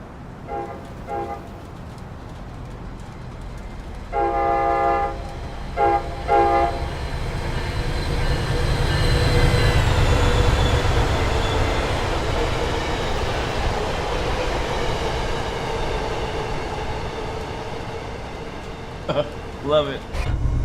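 A train flyby in Train Sim World 5 on a New York City line: horn blasts sound, then a swelling rumble and rushing clatter as the train passes close by, fading afterward, with more horn toots and someone talking.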